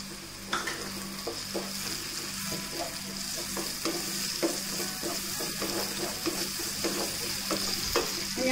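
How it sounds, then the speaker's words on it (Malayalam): Chili paste, ground from ordinary and Kashmiri red chilies, fries with a steady close sizzle in a pan while a utensil stirs and scrapes it in irregular knocks and scrapes throughout. "ഇതിലേക്ക് അരച്ചു വെച്ചിരിക്കുന്ന ചില്ലി പേസ്റ്റ് 1 ടീസ്പൂൺ ഇട്ട് കൊടുക്കണം"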